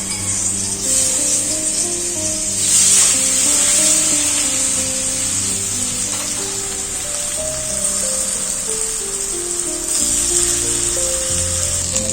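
Boiled yam pieces fry in hot oil with a steady sizzling hiss, while soft background music plays underneath throughout.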